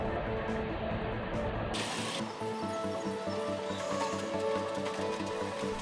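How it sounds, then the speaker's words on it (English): A bottling-line capping machine twists caps onto plastic water bottles with a steady, loud mechanical clatter of ratcheting, whirring parts and rhythmic clicks that run throughout. "a machine twists the caps into place"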